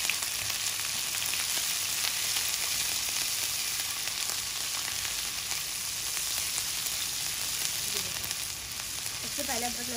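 Constant crackling sizzle of ginger and garlic frying in hot oil, steady throughout, with a brief clink of a utensil near the end.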